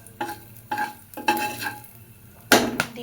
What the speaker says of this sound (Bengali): এবার আমি ওই তেলের মধ্যে দিয়ে দিব শুকনো মরিচ, গরম মশলা